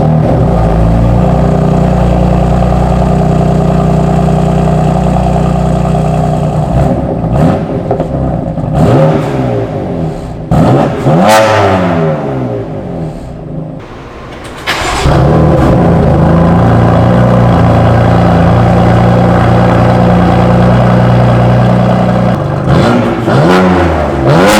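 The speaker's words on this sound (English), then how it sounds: "we can see what the cold start sounds like with the new mid pipes" A BMW M4 fitted with new VRSF mid pipes cold-starts with a loud, close roar, revs up high, dips briefly, then settles into a deep, steady, raspy fast idle that runs on.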